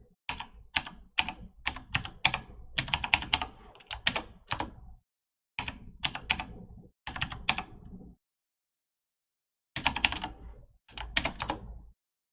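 A computer keyboard clatters as a root password is typed: quick runs of crisp keystrokes in bursts, separated by short silences, close and clear with no voices.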